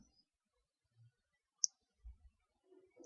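A single faint, sharp click from tapping a button on a reMarkable tablet sounds amid near silence, with a few soft handling noises around it.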